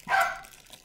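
A dog gives a single short, sharp bark indoors at close range, then the sound quickly fades to quiet.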